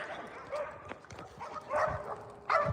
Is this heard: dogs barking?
yes